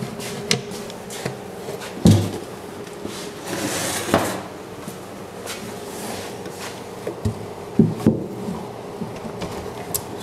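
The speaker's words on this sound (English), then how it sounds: "Let's see if this drawer fits in there." A large wooden drawer is fitted into a cabinet on drawer slides, with sharp knocks and thumps, short scraping slides and a few rattles scattered through a quiet workshop space.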